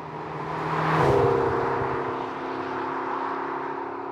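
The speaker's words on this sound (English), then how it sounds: "the exhaust note, it's better. It's quite raucous, quite deep." A McLaren GT's exhaust while driving, a deep, raucous engine drone that swells to a peak and then holds a steady humming cruise, heard from inside the car with steady road and wind noise.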